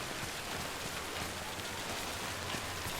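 Timefall rain in the video game Death Stranding makes a steady, dense hiss of falling rain that carries evenly through the whole stretch, with no voices over it.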